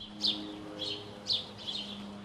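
Garden birds chirp in a quiet setting, four bright, short bursts of tweeting spaced about a second apart over a soft, steady background hum.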